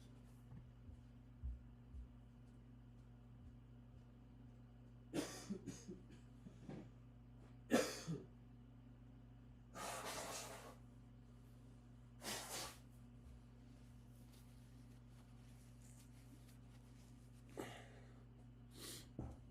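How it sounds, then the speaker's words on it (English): A person blows their nose indoors in several short, sharp bursts spread over about twenty seconds, with snorts and sniffs between against a quiet electrical hum. "let me blow my nose"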